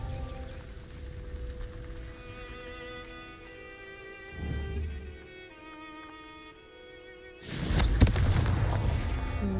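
A Confringo fire-blast spell exploding in the Hogwarts Legacy video game, heard as a heavy booming burst that follows a low rumbling blast, sitting over a steady bed of game music.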